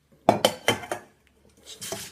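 Pieces of a metal camping cook set, pots and utensils, clink and clatter in four quick knocks, then a fainter rattle after a short pause, close and crisp.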